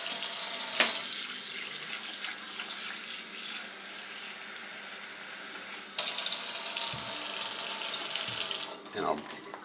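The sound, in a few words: water poured into bowl for gravy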